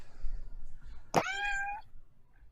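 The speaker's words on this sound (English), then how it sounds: "faint meow" A single cat meow from a cat demon, brief and clear with a rising then held tone, standing alone over faint background noise.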